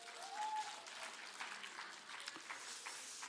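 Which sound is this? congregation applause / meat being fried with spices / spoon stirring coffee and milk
congregation applause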